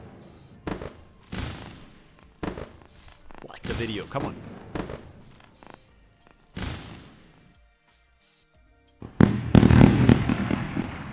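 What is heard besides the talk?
fireworks show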